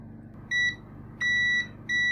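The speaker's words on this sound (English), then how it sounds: "Multimeter on continuity, I'm guessing A12 is going to be the outside one." Multimeter set to continuity, probing a connector's pins while repairing a faulty Tronsmart T6 Plus speaker, gives three short steady electronic beeps, with a longer middle tone, close and clear over a low background hum.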